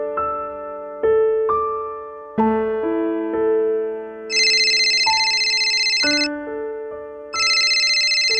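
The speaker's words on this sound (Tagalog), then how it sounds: "May tumatawag." Mobile phone ringtone for an incoming call: a loud, melodic electronic tune of stepped tones with bursts of bright buzzing chirps, repeating alone without talk.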